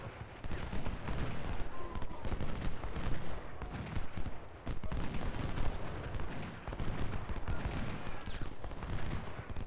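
Civil War artillery and massed musket fire on the Chickamauga battlefield in Ultimate General Civil War, a steady, distant-sounding rumble of shots and booms with horse hooves mixed in.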